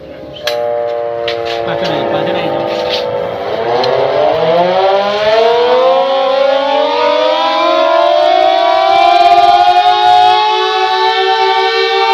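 A civil defense air raid siren sounding the all-clear: a loud, harmonic-rich wail that rises in pitch over the first few seconds, then holds as one steady, continuous tone to the end.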